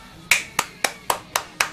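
Six sharp, evenly spaced claps ring out in a short steady rhythm, close and crisp, with nothing else around them.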